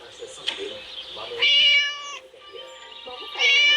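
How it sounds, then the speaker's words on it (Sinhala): A cat in the video game Scary Teacher 3D meows twice in long, loud, drawn-out calls while a player keeps talking underneath. "පූසා ඉන්නවා ගයිස් මෙතන පූසා ඉන්නවා."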